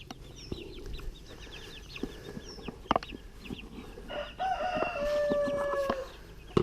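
Chickens cluck and murmur close by in a poultry pen with a few larger birds. Scattered thumps are heard, and a rooster crows clearly toward the end.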